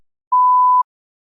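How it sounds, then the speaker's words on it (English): One steady mid-pitched tone from a TOEFL speaking practice test prompt beeps for half a second, crisp and isolated, with silence before and after. "You may begin to prepare your response after the beep."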